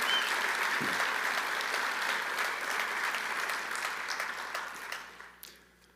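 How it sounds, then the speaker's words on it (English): Audience applause fills a dinner hall at the Florida Governor's Dinner in Okaloosa County, a dense, steady clapping that holds strong for about five seconds before tapering off. "let's give her a round of applause"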